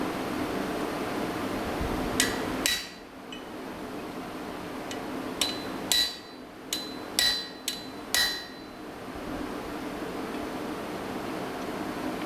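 Hammer strikes a chisel held at an angle for an asymmetrical cut in hot metal during a blacksmithing challenge, about nine sharp ringing metallic blows spaced irregularly over a steady background hum.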